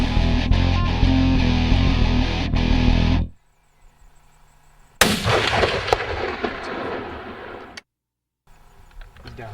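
A single sharp, loud rifle shot from a WSM caliber hunting rifle topped with a 3.5x10 Bushnell Elite 4200 scope, cutting off loud wind noise, followed by a ringing echo that trails off outdoors.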